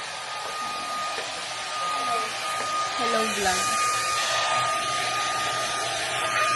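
A hair dryer blows with a steady, broad whooshing roar close by while people talk over it.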